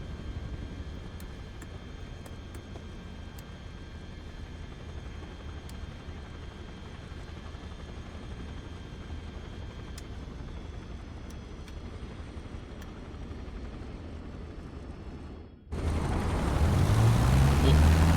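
A Cessna 152 engine in Microsoft Flight Simulator 2024 gives a faint, steady low drone that swells abruptly louder near the end, with a voice talking over it.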